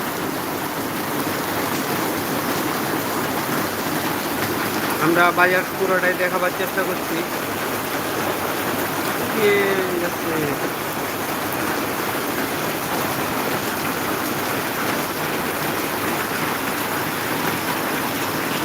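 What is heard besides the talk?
heavy rain falling on a market street in Maharajpur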